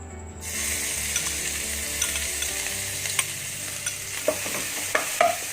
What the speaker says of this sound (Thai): ผัดกะปิก่อนนะครับ ให้มันหอมนะฮะ